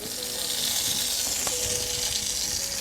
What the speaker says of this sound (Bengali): মাছগুলো দেখো আমার ভাজা হয়ে গেছে, আমি এবার এক এক করে তুলে নেব